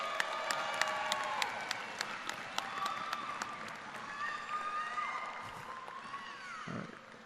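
Crowd applause for graduating students at a high school graduation ceremony, a broad wash of clapping with distinct sharp individual claps standing out and some cheering, tapering off toward the end.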